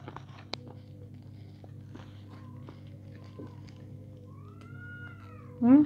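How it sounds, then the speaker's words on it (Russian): Cats meow at close range in a quiet room, with a few soft rising calls spread through the clip and a louder, sharper meow at the very end; chewing sounds are also faintly present. "Кошки мяукают."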